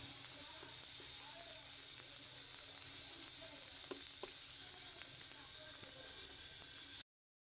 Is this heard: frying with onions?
yes